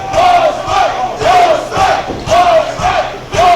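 Wrestling crowd at a championship main event inside Indiana City Brewing Company, a loud packed room chanting in rhythmic bursts, roughly one shout per half second, with the crowd's roar continuous underneath.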